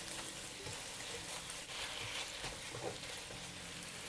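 Korean BBQ pork coated in gochujang is stir-fried in a hot pan in the style of a Singapore hawker stall, with a steady loud sizzle and irregular scraping stir strokes. It runs close and continuous, and no one speaks.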